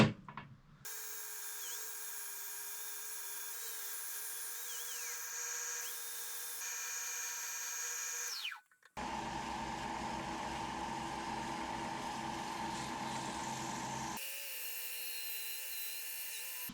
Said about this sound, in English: Mega sander, 60 grit.